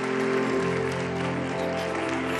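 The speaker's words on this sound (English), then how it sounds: "Please give them a round of applause and show your appreciation." At the 2025 cultural investment conference, an audience applauds steadily and fairly loudly over a low, constant hum, with no pauses.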